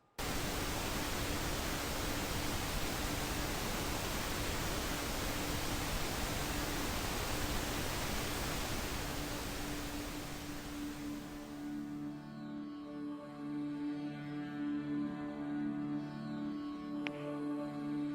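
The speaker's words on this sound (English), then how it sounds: "I'm going to play pink noise one more time, and I'm going to slowly fade it out" Dense, steady hiss of pink noise fills the air, then gradually thins and fades away, leaving a quieter background hum.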